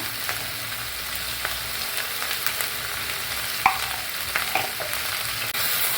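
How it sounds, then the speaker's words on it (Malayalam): Okra being stir-fried in a heavy, thick-bottomed pan after salting, with a steady soft sizzle and scattered scraping, clicking stirs of a spoon against the metal, close and without talk. "ഉപ്പിട്ടതിന് ശേഷം നന്നായിട്ടൊന്ന് ഇളക്കി യോജിപ്പിക്കുക"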